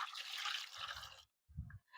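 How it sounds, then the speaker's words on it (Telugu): Jeevamrutham liquid fertilizer poured into a tub: a short splashy pour of liquid, then a couple of low gurgling glugs, close and fairly quiet. "హాఫ్ లీటర్ అయితే నేను జీవామృతం ఈ టబ్లో పోసుకుంటున్నా"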